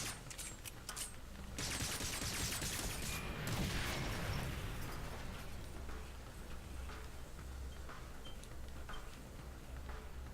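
Explosions and rapid fire in a video game: a loud cluster of booms and crackling bursts at the start, then a busy stretch of popping blasts that fades into scattered quieter pops and rumbling.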